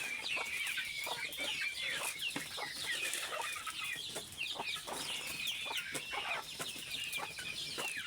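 Native chickens on a poultry farm cluck steadily and overlap one another in a dense, continuous flock chorus, with occasional louder calls and no voices.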